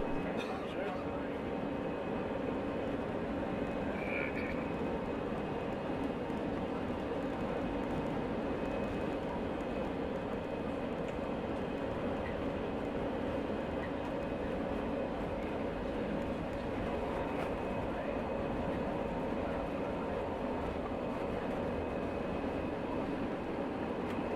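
Steady, dense drone of an American Airlines jet in flight from Cuba to the USA, a constant low cabin rumble with airflow hiss and no breaks, heard from inside the plane.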